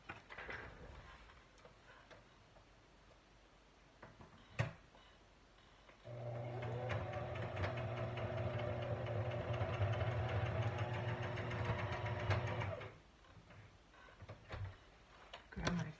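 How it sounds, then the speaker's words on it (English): Sewing machine stitching straight through a fabric napkin, a steady mechanical whirring hum lasting several seconds, framed by quieter handling clicks and a sharp knock before it starts. "I'm just gonna really quickly run a stitch straight through this, and I'm just gonna stitch it"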